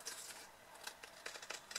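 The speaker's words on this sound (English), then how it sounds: "I'm just going to grab my scissors" Scissors snip in a series of quick, crisp cuts at close range, irregularly spaced and with no talking.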